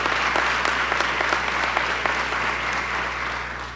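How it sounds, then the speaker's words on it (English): A crowd gives steady, sustained applause at a police swearing-in and promotions ceremony. The clapping holds at an even level and then starts to fade at the end. "Give her a round of applause."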